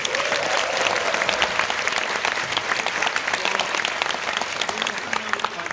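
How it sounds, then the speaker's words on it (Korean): An audience claps steadily through a lecture hall, a dense, sustained round of applause with a faint voice briefly audible under it. "박수 한번"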